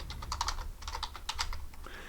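Keys clatter in quick irregular bursts as code is typed on a computer keyboard, close and moderately loud, with no voices.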